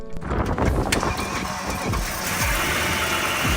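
A crash-damaged BMW M3 engine being rebuilt cranks and catches, then runs with a rough, uneven idle that stays loud and close.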